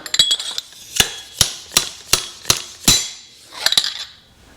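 A seal driver taps a seal down onto an Indian motorcycle's front fork tube over a large washer, giving about eight sharp metallic knocks in a steady rhythm with faint clinks between them, close and clear.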